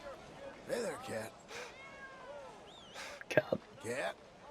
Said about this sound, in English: Hey there, cat.